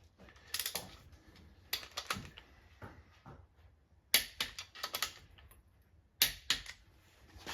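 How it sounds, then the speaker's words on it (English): A torque wrench tightens rod bolts on a Chevy 350 crank assembly, giving sharp, close metallic clicks in short irregular bursts separated by quiet pauses. "I'll pull a little torque into these rod bolts."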